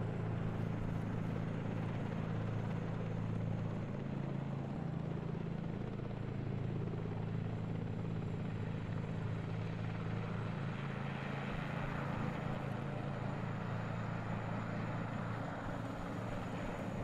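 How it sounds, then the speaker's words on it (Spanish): A transport helicopter in the military game ArmA 3 hovering overhead, a continuous low rotor throb and engine drone holding steady and loud throughout, with no pauses. "Acaba de llegar el helicóptero de transporte, Oscar."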